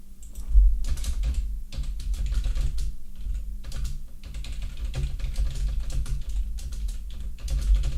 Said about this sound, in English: Why am I typing?